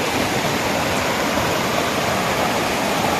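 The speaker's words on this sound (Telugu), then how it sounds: "ఇప్పుడైతే మనమైతే వాటర్ ఫాల్స్ దగ్గరలో అయితే ఉన్నాం." Steady, dense rushing water roars without pause close to the Penchalakona waterfall, a broad unbroken wash of noise with no voices.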